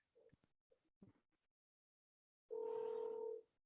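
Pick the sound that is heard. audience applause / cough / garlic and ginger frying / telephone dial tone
telephone dial tone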